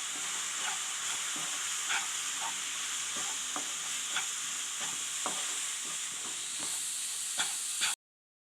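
Fish curry with chili powder and tamarind is stirred in a pan, with a soft steady sizzle and hiss under light, irregular scrapes of the spoon against the pan.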